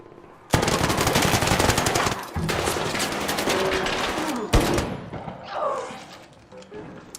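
Sustained heavy gunfire from the Anvil in the video game Arc Raiders, a loud, dense automatic burst lasting several seconds, with a sharp shot near the end before fading into quieter game sounds.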